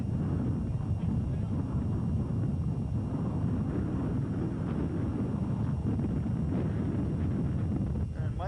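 Steady wind rumble buffets the microphone at a 1984 bicycle road race, a continuous low roar with no breaks, loud and close throughout the clip.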